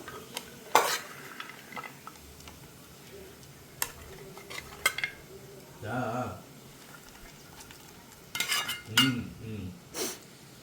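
Ghee-fried cashews are stirred into bread halwa in a pan, with scattered spoon clinks and scraping stirs against metal and a faint background sizzle. A voice is heard briefly between the stirs.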